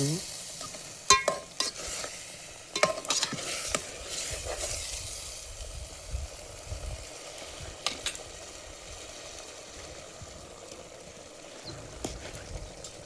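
Whole stuffed brinjal curry sizzles in a pan as a soft, steady hiss. Several sharp scrapes and taps of a spoon stirring break in now and then, close by, with no talking.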